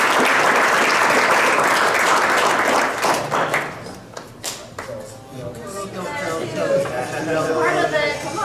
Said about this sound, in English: let's just give everybody a round of applause,